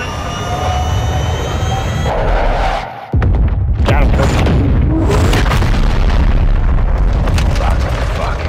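In the game Modern Warfare 2, a missile slams into its target with a heavy booming explosion after a steady jet-like roar, the blast rumbling and crackling loudly for several seconds.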